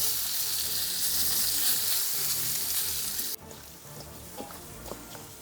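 Meat sizzles in a pan for chili verde, a steady close frying hiss that drops to a quieter sizzle partway through, with a few faint scraping touches of a utensil.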